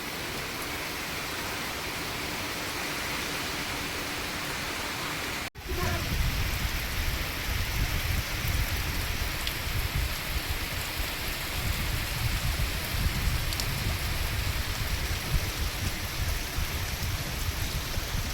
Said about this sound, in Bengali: রাস্তা বানানোর সঙ্গে সঙ্গে এমন বৃষ্টি শুরু হয়েছে,